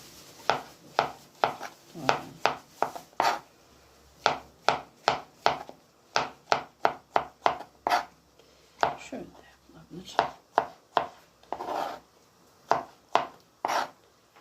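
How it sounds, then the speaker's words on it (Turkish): A knife slicing mushrooms into rings on a cutting board, a rapid string of crisp, close chops in uneven bursts with short pauses between runs. "Şöyle onları da aynı soğan gibi halka halka"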